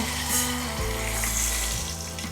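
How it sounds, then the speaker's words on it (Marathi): Steady sizzling and bubbling of a cup of water hitting a hot pan, with a low rumbling boil underneath, continuous throughout. "त्यासोबतच आपण यामध्ये टाकणार आहोत एक कप पाणी"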